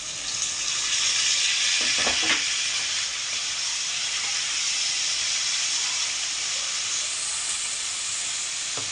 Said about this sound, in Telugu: టమాటాలు కూడా వేసి వేయించడం